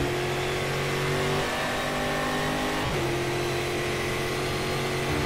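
A Brazilian V8 stock car engine in the racing game Stock Car Extreme drones steadily at high revs, dipping briefly as a gear changes midway, then holding a continuous loud roar.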